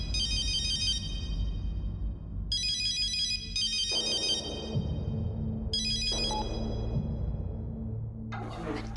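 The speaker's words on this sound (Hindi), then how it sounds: "मैंने तो फोन साइलेंट पे किया था, पता नहीं कैसे बच गया।" A mobile phone ringtone sounds in bursts of bright electronic chiming, repeating several times over a low steady background hum, fairly loud and without talking.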